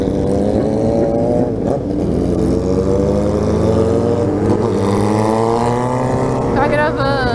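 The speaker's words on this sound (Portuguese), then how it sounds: "Só as motos barulhentas que tem." Loud motorcycles with open exhaust pipes, one an XJ6, rev and rumble nearby on a ride through Itanhaém, engines rising and falling in pitch continuously.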